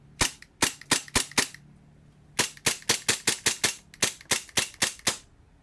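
An airsoft rifle fires about twenty sharp, loud shots in quick rhythmic bursts of five to eight, with brief pauses between strings, during a chronograph velocity test.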